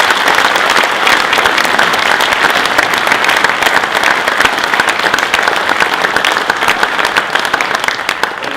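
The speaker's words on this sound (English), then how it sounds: "All of you guys, give yourselves a round of applause." Dense, sustained applause from a large audience at a Corvette Racing team seminar, steady and loud throughout with no break.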